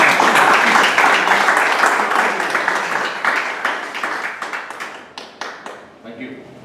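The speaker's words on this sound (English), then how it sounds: "let's give a big round of applause for all the" An audience at a Toastmasters club contest claps in a full burst that gradually thins out, leaving a few scattered, distinct hand claps at the close.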